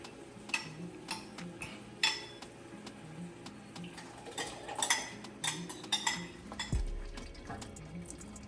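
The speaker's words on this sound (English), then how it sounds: "you mix thoroughly." Tomato paste being stirred in a pot for jollof rice, with a spoon scraping and clinking against the metal in an irregular rhythm, close and fairly quiet, with a low thump near the end.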